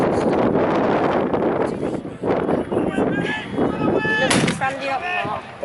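Cannon and musket fire at an American Civil War reenactment at a balloon fiesta outdoors, a dense rumbling blast with wind buffeting the microphone and crowd noise and chatter underneath.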